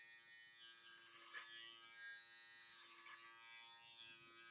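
A Kemei KM-5031 electric clipper cutting hair gives a steady, faint mechanical hum with a few slight rises as it passes through the hair, heard alone without talk.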